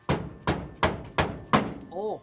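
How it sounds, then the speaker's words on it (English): Five dull, heavy taps from a dead blow hammer on a truck's linkage land at a steady pace, each a solid thud, followed by a short vocal grunt at the end. "I'm gonna tap on that linkage with a hammer"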